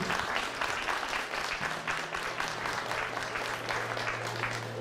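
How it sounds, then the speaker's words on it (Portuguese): Audience applause at an official ceremony marking an association's 50th anniversary, a steady wash of clapping sustained throughout with a low hum beneath, fairly distant in a large hall. "vivas e palmas à nossa DUFLA"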